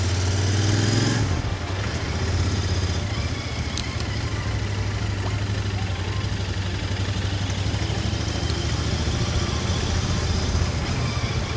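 Motorcycle engine heard from the rider's position on the road, a brief rev at the start settling into a steady, loud drone mixed with wind rush, no talk.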